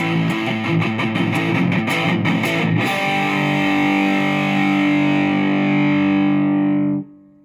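Heavily distorted electric guitar through a Fender Champion 20's 2000s-metal amp model, gain cranked, playing a chugging riff, then ringing out on a sustained, saturated chord that cuts off abruptly.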